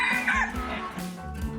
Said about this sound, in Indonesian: Tiap pagi ayam jago bakal teriak